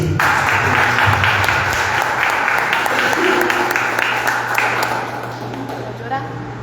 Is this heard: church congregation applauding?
yes